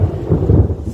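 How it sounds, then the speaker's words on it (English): Loud, deep rumbling thunder over a backyard, rolling continuously with rain-like hiss mixed in. "So, here comes that thunder and lightning"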